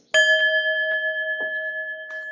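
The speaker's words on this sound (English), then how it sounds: "I'm going to ring a bell repeatedly" A meditation bell is struck once and rings out with a clear, sustained tone that slowly decays, with a few faint soft knocks or rustles during the long ring.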